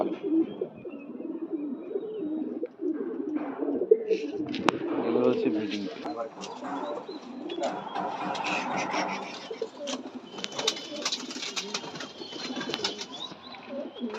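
Pigeons coo in a Jan Aarden racing pigeon loft, their soft, throaty calls repeating steadily through the clip amid rustling and scattered chirps, with people talking nearby now and then.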